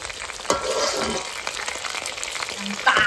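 Leftover zongzi, sticky rice dumplings, fry in a pan as lunch, giving a loud continuous sizzle with a few clattering stir and scrape sounds up close.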